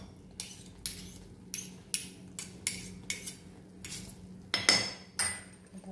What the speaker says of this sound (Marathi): आता आपण ह्याला झाकण लावून ठेवून देऊ.